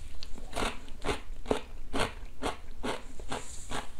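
Someone eats convenience-store smoked chicken up close, with rhythmic crunchy bites and chewing repeating about twice a second.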